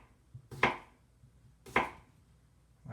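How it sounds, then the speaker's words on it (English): Two crisp knife chops through a potato on a cutting board, spaced about a second apart, close and distinct over a quiet background. "I'll just show you real quick how to chop up a potato"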